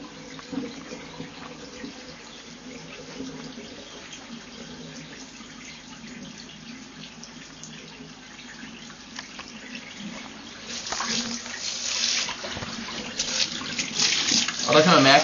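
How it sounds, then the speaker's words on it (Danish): Lukewarm water runs from a wort chiller during home beer brewing, a steady splashing flow into a sink that grows louder and harsher toward the end, with someone speaking quietly in places. "det er lunken vand, der kommer ud her af køleren"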